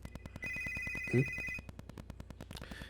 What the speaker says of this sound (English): You got a phone call incoming, Master!